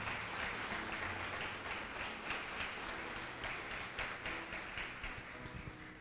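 A church congregation claps during a Spanish-language sermon, giving applause to the Lord; soft, distant, steady clapping that continues evenly and fades slightly toward the end.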